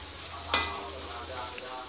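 Ground beef, mushroom and hot dog fry in a pan with onion and garlic, a soft steady sizzle under a faint low hum, with one sharp stirring scrape near the start and no talk.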